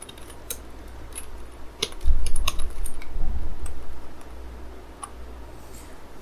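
Light, quick taps on a computer keyboard while someone types code in an editor, sparse and fairly faint clicks over a low background hum.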